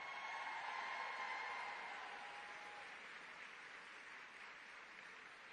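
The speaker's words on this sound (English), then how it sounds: "let's give all our special guests today a big round of applause" An audience at a gun safety event gives faint, steady applause for special guests, a broad wash of clapping that slowly fades over several seconds.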